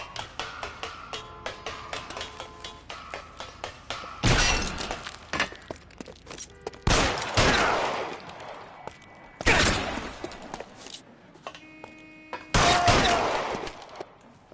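Gunfire in the video game L.A. Noire, a rooftop chase shootout: rapid sharp shots with glassy breaking, several dense bursts of fire and scattered single cracks, loud and close, with no talk.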